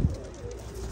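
Flying-breed pigeons coo softly and repeatedly at close range in a loft, a low throaty burbling that continues for about a second with no voices.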